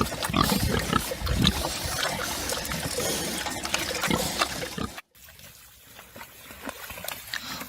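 Pigs on a farm with water trickling and splashing, busy overlapping grunts and liquid sounds that cut off abruptly, then a quieter stretch of dribbling water and faint animal noise.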